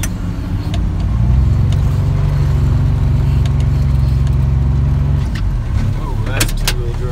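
A 2015 Kubota X1100C UTV on ITP Mudlite XT 25-10-12 tyres ploughs through deep snow in two-wheel drive, its engine a loud, steady drone throughout, with a few short clicks and thumps near the end.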